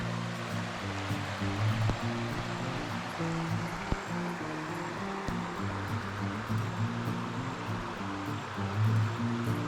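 Water in a creek rushes steadily and nearby, a constant broad flowing wash with a few faint knocks and no speech.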